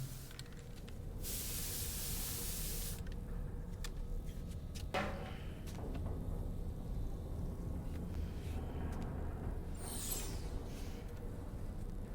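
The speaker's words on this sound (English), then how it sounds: "Spray dye?" Spray hair dye is applied in the video game Death Stranding 2, a loud hissing burst for a couple of seconds over a low ambient drone, followed by mechanical clicks and a fainter second spray.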